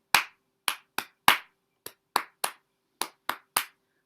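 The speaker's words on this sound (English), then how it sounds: "you try to clap that specific rhythm" Hands clap a syncopated rhythm, eleven crisp, close claps at uneven spacing with short pauses between groups, alone with no talk.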